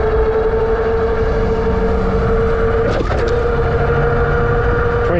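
A Jansno X50 electric bike accelerating on full throttle in pedal assist level 5, giving a loud, steady motor whine with constant wind and road rumble that shifts pitch slightly midway, no voices.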